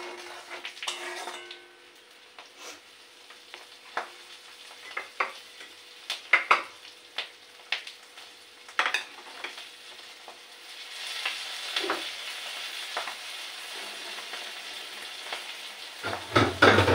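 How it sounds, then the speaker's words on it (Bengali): Dried and green chillies sizzle in hot mustard oil in a pan, a steady frying hiss broken by frequent sharp crackles and pops, close and moderately loud, with some stirring clatter and no talking. "তো সবগুলো একসাথে আমি ফোড়ন দিয়ে দেবো এগুলোকে।"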